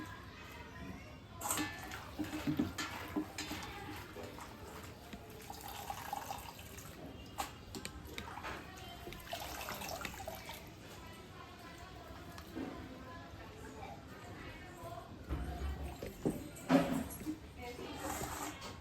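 Leaves of white garjala greens being washed by hand in water, with splashing and sloshing rising and falling through the clip and a voice speaking at times.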